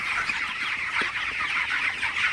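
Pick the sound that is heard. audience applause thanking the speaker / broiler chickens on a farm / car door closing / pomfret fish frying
broiler chickens on a farm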